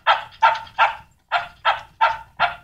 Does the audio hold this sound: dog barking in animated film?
yes